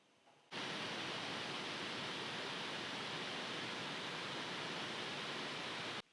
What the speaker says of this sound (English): that was just a sample of the fan noise, so it gets a little loud when you are gaming